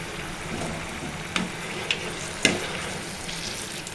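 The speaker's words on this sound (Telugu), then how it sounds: "ఇలాగే మొత్తము ఫ్రై చేసుకోవాలండి" Indian gooseberries fry in a pan for pickle with a steady, moderate sizzle, punctuated by three sharp spoon knocks or stirs against the pan.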